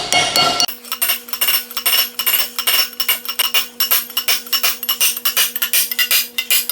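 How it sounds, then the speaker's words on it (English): Repeated light metallic taps as a bearing is driven onto an axle, a steady run of sharp clinking strikes at close range with a constant ringing tone beneath. "Bearing, I'm gonna attempt to tap it on."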